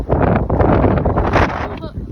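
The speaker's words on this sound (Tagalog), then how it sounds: "Super hangin." Strong gusty wind buffets the microphone outdoors, a loud continuous roar with rising and falling surges, while people talk over it.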